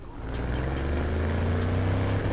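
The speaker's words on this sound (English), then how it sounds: "The thing I like about the Ragnar, the only time I've ever driven one, the engine sounds great." Ragnar car engine in the video game Cyberpunk 2077 drones with a loud, steady, building hum, a sustained low roar that swells slightly as the car drives, with no speech over it.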